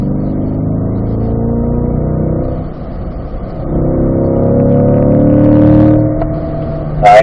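A race car on a track pulls hard with a loud, close engine climbing in pitch through repeated gear changes, easing and then building again, with a sharp higher burst at the very end.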